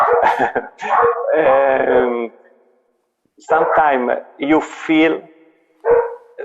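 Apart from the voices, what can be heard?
dogs barking and howling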